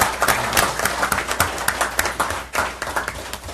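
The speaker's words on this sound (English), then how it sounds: "A round of applause, please." Clapping and applause from an audience at a city council meeting, close and fairly loud, with distinct individual claps in an uneven rhythm running throughout.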